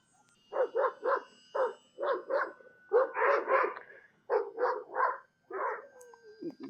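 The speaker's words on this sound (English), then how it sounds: "The dog's barking is because there's a local dog pound right behind me" Several dogs bark at a dog pound close by, loud repeated barks in rapid bursts with short pauses between volleys, no talking.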